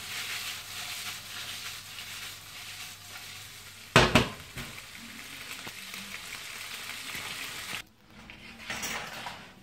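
Garlic prawns and noodles stirred in a sizzling frying pan, a steady hiss of frying with a sharp clatter of utensil against the pan near the middle, then quieter sizzling at the end.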